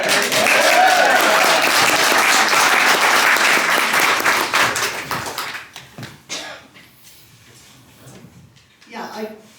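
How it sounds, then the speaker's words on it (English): A live audience at a cabaret recital applauds and cheers loudly and steadily for about five seconds, then the clapping thins out and fades to scattered claps and a brief murmur of voices. "let's all cheer for Karen"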